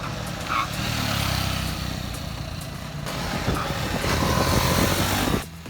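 A 312cc single-cylinder TVS Apache RR 310 motorcycle engine hums at moderate volume, rising as it accelerates and then dropping off abruptly near the end.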